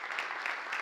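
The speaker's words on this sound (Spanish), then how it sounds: "quiero que les demos un gran aplauso" Brief applause from an event audience, steady and continuous at moderate distance, with no voices over it.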